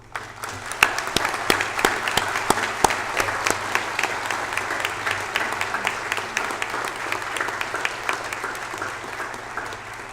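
Graduates receive steady, dense applause from the audience at a University of Guelph convocation ceremony. The clapping holds an even level throughout, with a low hum underneath.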